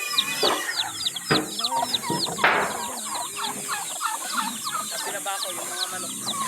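Rhode Island chickens clucking and squawking at close range, a busy overlapping chorus of hens with a few sharp louder calls standing out.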